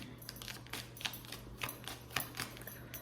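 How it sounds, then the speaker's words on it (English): Soft papery riffling and light taps of tarot cards being shuffled, a steady series of brief rustles over a low background hum. "Let me just shuffle them up."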